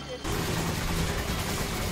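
Rapid gunfire in Resident Evil 5 during a boss fight, aimed at the boss's head: a dense, steady barrage that starts abruptly after a brief pause and keeps going loud and close to the end.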